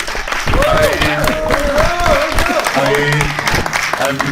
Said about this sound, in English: let's give a round of applause to Mr. Martin